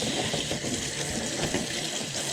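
Warm tap water running steadily over a Traxxas Slash 4x4 VXL plastic body during a dish-soap wash, a continuous close rushing splash with no break and no voices.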